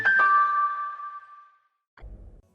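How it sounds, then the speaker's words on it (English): A two-note ding-dong chime sound effect on a radio show, ringing out clearly and fading over about a second and a half, followed by a brief low thump. "Ding dong."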